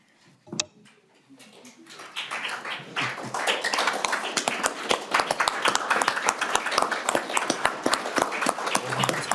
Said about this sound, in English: if we could stand and applaud